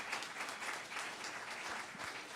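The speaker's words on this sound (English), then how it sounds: "you all deserve a round of applause for everything that you're doing" Audience applause fills a town hearing room, a steady dense clapping from a crowd that holds evenly for a couple of seconds at moderate distance.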